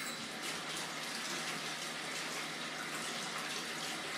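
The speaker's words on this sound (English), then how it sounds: "Let me wash my hands." Tap water runs steadily for a few seconds as hands are washed at a sink, a close, continuous gushing hiss with no voices over it.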